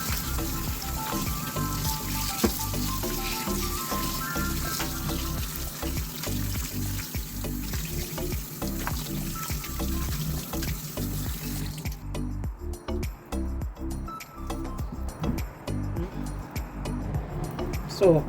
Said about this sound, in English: I will remove this water, wash it, and start making use of it.